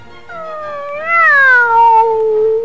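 A voice imitates an old cat's meow in a storytime reading, a single long, rising then falling wail, close and clear with no background noise.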